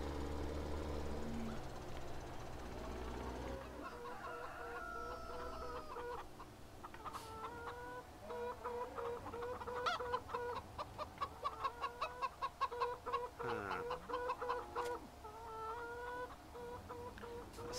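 Chickens cluck and a rooster calls in Farming Simulator 17 on the Altenstein map, a run of close, rapid repeated clucks over a low engine rumble, with no voices.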